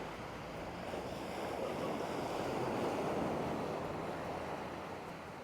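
Steady wash of waves on a small beach on Koh Samet island, a broad continuous surf roar with light wind, no voices.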